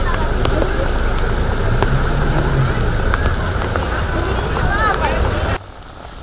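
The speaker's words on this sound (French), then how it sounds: "La tombée incessante de la pluie perdure depuis des jours dans la capitale." Heavy, incessant rain falling over the capital of Madagascar, a dense steady hiss close up that drops away abruptly near the end, with faint background noise beneath.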